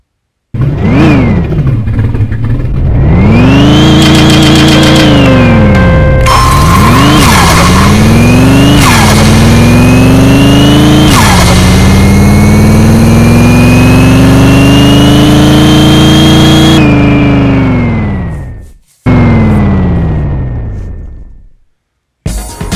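A tuned turbocharged Dodge Charger in the racing game Rush Racing 2 revs hard and loud, its engine note climbing through repeated gear shifts over about twenty seconds before cutting off abruptly.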